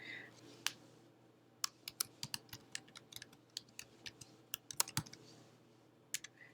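Scattered keystrokes on a computer keyboard click quietly at an uneven pace, a few sharper taps standing out, with no talking.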